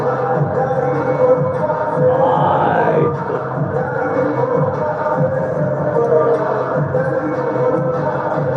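A boxing arena crowd keeps up a loud, continuous roar and murmur throughout, with no single voice standing out.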